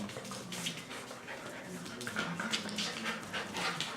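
Standard poodle puppies whimper and yelp in soft, restless bursts that carry on throughout, close by, with some faint background noise and rustling.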